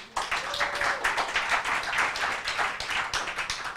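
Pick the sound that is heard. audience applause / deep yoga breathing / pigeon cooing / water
audience applause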